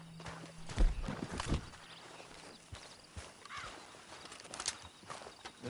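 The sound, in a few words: horse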